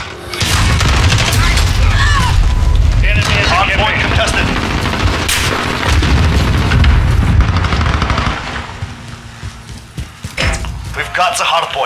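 Call of Duty: Modern Warfare (2019) multiplayer combat with a heavy grenade blast, booming low rumble mixed with gunfire bursts and radio callouts over a dense, loud battle soundscape.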